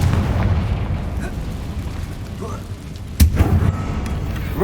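In the Hogwarts Legacy game, the Confringo explosive spell lands as a single sharp blast over a constant low rumble of in-game ambience.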